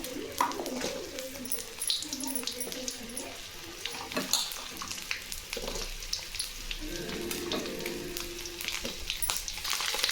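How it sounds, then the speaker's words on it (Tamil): Garlic and onion fry in a pan for a Tamil greens dish, giving a steady close sizzle with scattered crackles while a voice is faintly heard over it. "இப்போ நான் பூண்டும் வெங்காயமும் சேர்த்திக்கிறேன்."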